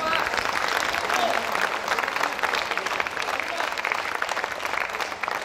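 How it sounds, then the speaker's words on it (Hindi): Dense, sustained applause from a seated audience at an Indian poetry gathering, a kavi sammelan, fills the whole stretch, loud and steady with a few voices buried in the crowd noise. "एक एक व्यक्ति ताली बजा के बताना"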